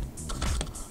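An object drops onto a computer keyboard, giving a brief, close clatter of rattling keys that lasts under a second in an otherwise quiet room.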